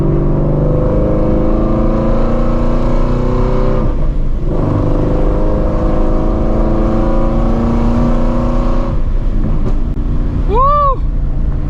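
700hp New Edge Ford Mustang GT engine revving hard while driving, a loud, continuous, throaty roar climbing through gears with a brief dip between pulls, close up, ending with a short squeaky chirp.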